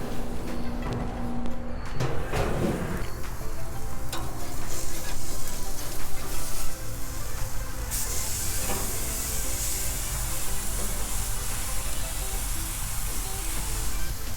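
Walmart wagyu ribeye sizzles loudly on a used Viking propane grill, a dense, continuous close hiss and crackle with a few clanks from handling.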